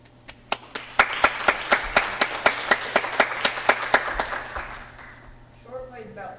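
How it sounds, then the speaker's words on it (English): At a theatre performance of short plays, crisp, evenly spaced claps ring out in a quick, steady rhythm before fading, then a voice begins speaking near the end. "please give a round of applause for our next performance called Smoke Scenes"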